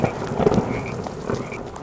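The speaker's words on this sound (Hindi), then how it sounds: "चारों ओर बस मेंढकों की आवाजें गूंज रही थी" Frogs croaking repeatedly in a dense chorus, with deep calls and higher chirps overlapping against a damp outdoor background.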